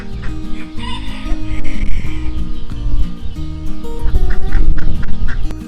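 Ducks on a pond after a storm, a flock quacking and chattering loudly and close, in overlapping irregular calls with no talk.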